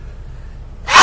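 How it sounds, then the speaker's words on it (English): A sudden loud sneeze from a trucker in his cab bursts out after about a second of quiet low rumble, a single sharp explosive burst close to the listener. "I've been sneezing a lot lately."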